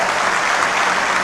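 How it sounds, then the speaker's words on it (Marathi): Dense, steady applause from an audience at a guidance camp for tenth and twelfth standard students, loud and continuous throughout the moment with no pause. "त्यांच्यासाठी जोरदार टाळ्या द्या"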